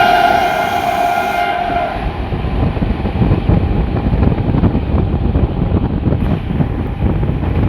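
An arriving train at Bongaon station sounds a loud, sustained horn for about two seconds, then a heavy, close rumble of wheels and carriages rolls on with wind buffeting.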